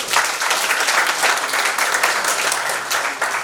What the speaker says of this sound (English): one more round of applause for Prof